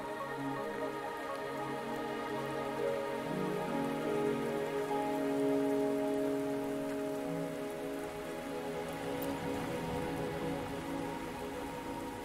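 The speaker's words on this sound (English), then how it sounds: "Are you trapped here by the rain?" Steady rain falls across a game world in Wuthering Waves, an even hiss of drops pattering on surfaces with soft low tonal music beneath, continuous and unbroken throughout.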